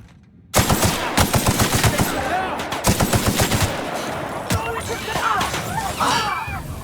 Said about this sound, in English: We have a lot of shooting to do